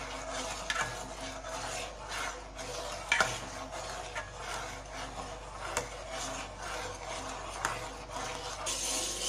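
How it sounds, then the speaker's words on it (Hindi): A spoon is stirred through a pot of milk thickened with cornflour while it cooks down for homemade vanilla ice cream, giving soft repeated scraping strokes against the pot bottom, close and fairly quiet, over a faint bubbling simmer. "इसलिए हमें चमचे चलाते रहना है"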